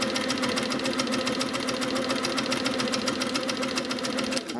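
A domestic sewing machine runs steadily during free-motion quilting of feathers, a fast, even mechanical whir and needle chatter that carries on without a break until it stops near the end.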